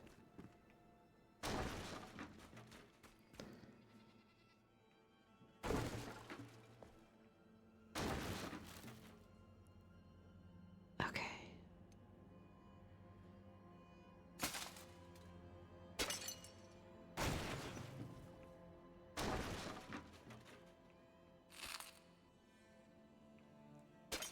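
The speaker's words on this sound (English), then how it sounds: "I turned the game sounds down quite a bit, so hopefully this crashing and banging isn't too noisy" Objects being cleared away in the video game Enshrouded crash and bang in a string of sharp, shattering impacts, about eight loud hits spaced a few seconds apart over a low steady game ambience.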